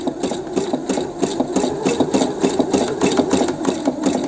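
A sewing machine stitches through a waterfall panel with wire at a steady, moderate pace, its needle thumping in an even rhythm over a continuous motor hum.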